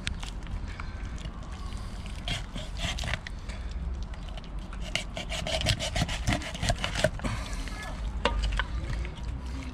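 A knife cuts through the head of a pike fish in repeated rough scraping and sawing strokes, close and fairly loud, with crackly crunching bursts as the blade works through.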